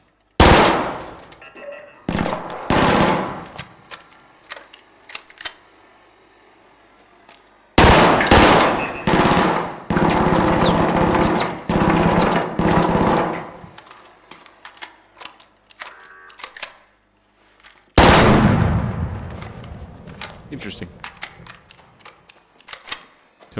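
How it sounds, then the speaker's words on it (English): Gunfire in the video game Arc Raiders comes in three loud bursts of rapid automatic shots, each with a dense run of sharp cracks, separated by quieter gaps with scattered single shots. "when you're done shooting, and I'll turn this back up"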